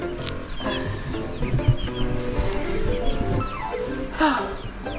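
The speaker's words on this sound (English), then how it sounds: "My new chickens." Several chickens clucking and chattering close by, with overlapping calls and a busy background of birds throughout.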